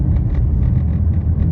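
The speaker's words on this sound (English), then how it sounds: "I'm driving right now" Steady low rumble of a car driving along, heard from inside the cabin, continuous and fairly loud with no talk over it.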